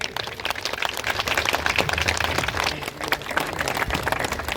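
Applause from a gathering at a charitable trust medical camp, greeting a regional party vice president: dense, steady clapping from many hands that holds at an even level throughout.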